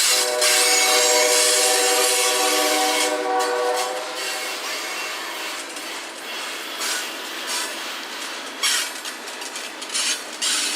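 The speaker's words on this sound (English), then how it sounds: "The train's horn echoes in the distance as it crosses County Line Road." A BNSF freight train horn sounds in sustained blasts at a road crossing, echoing from a distance, then fades into a low rolling rumble of rail cars with faint clattering.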